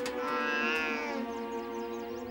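A cat meows once in a long, drawn-out, wavering cry that fades slowly, loud and close with nothing else around it.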